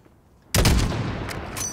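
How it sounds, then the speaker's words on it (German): A single sniper rifle shot in Call of Duty: Modern Warfare (2019) fires after a quiet lead-in, a sharp loud crack followed by a long booming echo and rumbling tail. "Schieß, wenn du so weit bist."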